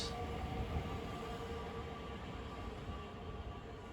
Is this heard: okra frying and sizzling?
no